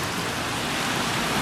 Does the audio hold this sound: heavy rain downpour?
yes